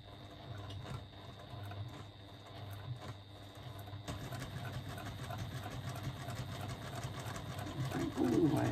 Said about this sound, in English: So we're just going to do a line of one back stitch at the beginning.